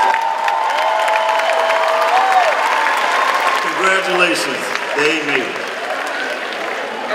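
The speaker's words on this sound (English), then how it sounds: "Give them a round of applause, please." A crowd at a high school commencement ceremony applauds and cheers loudly, with whoops rising over the clapping while a voice speaks over the noise.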